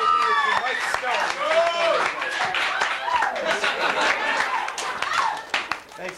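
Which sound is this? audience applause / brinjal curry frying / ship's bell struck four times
audience applause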